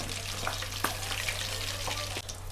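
Pieces of rohu fish frying in oil in a village-style pan, a continuous moderate sizzle with a few soft clicks and a low steady hum underneath, no speech.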